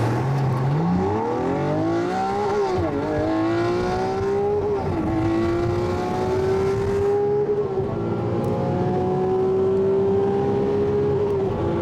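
A Koenigsegg race car, chassis number 100, launching hard: a loud engine note climbs steeply through the gears with a brief dip at a shift, then holds a high sustained roar for several seconds, close and continuous with no talk.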